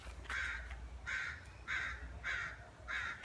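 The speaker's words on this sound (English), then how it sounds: "You can hear the birds." Crows caw repeatedly in a steady rhythm, five harsh calls spaced about half a second apart, heard at moderate distance outdoors.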